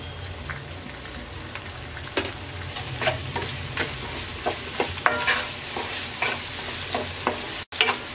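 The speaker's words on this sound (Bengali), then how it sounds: "টমেটোটাকে আমরা 2 মিনিট ভেজে নেব।" Chopped tomato with ginger-garlic paste and salt frying in a pan for potato okra masala curry, a steady sizzle with repeated sharp scrapes and taps of a spoon as it is stirred, close and alone.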